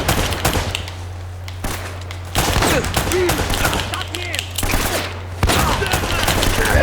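Rapid bursts of automatic gunfire from the video game Uncharted: Drake's Fortune, loud and dense, recurring in clusters over a steady low game hum across the whole stretch.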